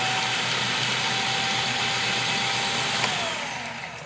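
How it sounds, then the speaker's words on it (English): A food processor chopping garlic runs as a continuous high-pitched motor whir, close and steady throughout, fading slightly at the end with no voices. "you notice how really quickly it actually chopped up that garlic"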